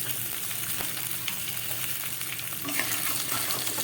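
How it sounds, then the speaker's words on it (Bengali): Beans, pumpkin and eggplant stir-frying in a hot pan for a Malabar spinach dish, a steady close sizzle broken by scraping spatula strokes, with no one speaking. "পুঁই শাক রান্নায় যে যে সবজিগুলো আমি কেটে নিয়েছিলাম এবার এগুলোকে ভালো করে একটু ভেজে নেবো"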